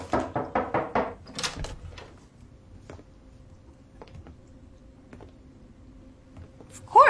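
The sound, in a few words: knocking on a hotel room door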